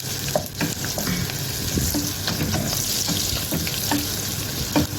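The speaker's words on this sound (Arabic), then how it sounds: "هنحط حبة زيت على البصل وندبله بس" Chopped onions soften in a little oil in a pan for a liver, onion and tomato dish, with a steady close sizzle broken by frequent stirring scrapes and light clicks, no voices.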